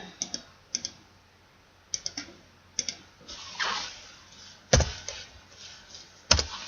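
Typing on a computer keyboard: scattered individual key clicks and short clusters of taps with pauses between, close and crisp in a quiet room, ending in a couple of sharper, louder presses.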